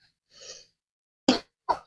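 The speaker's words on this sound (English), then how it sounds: "I'm still fighting that dry cough" A single dry cough bursts out twice in quick succession after a soft breath, close and fairly quiet, with no talking.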